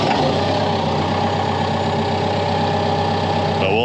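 A Doosan bulldozer's diesel engine idles steadily while warming up, a loud, close, continuous low rumble with a faint knocking texture and no talk.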